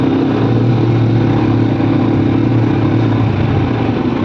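Four-wheeler bike engine running steadily on a mud bogging track, a continuous close, loud drone with a low hum throughout and no talking.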